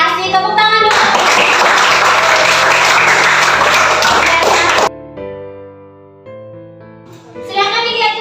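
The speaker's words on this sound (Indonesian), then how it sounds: "Tepuk tangan dulu." A classroom of students claps together for about four seconds, loud and dense, then fades into a lingering tonal sound with voices around it.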